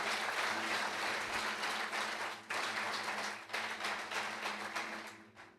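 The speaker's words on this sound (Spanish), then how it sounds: "Dale un aplauso a Dios bien fuerte por ese hombre." A church congregation claps loudly and steadily in a dense, sustained burst of applause that fills the room, with a brief dip partway through before continuing strong to the end.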